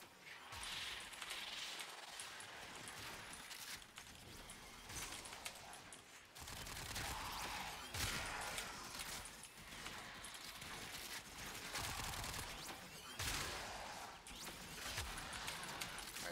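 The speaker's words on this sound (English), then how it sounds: "That was three shots plus a little bit of priming, primary shots." Rapid primary weapon fire in the video game Warframe, a dense, faint, continuous clatter of shots with repeated bursts and mechanical clicks across the whole stretch.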